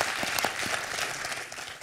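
Dense, steady clapping from a studio audience on a French television quiz show, loud and continuous, fading slightly toward the end.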